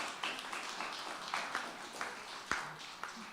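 Audience applause for a reader at a Downtown Eastside writers' event, soft scattered clapping from a modest crowd, heard faintly and at a distance with a few sharper individual claps.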